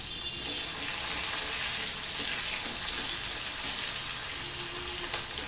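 Onion fries in oil tempered with black cumin in a home kitchen, giving a steady, hissing sizzle with an occasional stir. No voice is heard over it.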